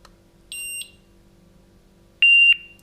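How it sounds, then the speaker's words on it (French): A Somfy indoor alarm siren answers the prog key with two short pairs of high electronic beeps, the second pair louder, over a quiet background hum. "Voilà, sirène intérieure. On appuie sur la touche prog."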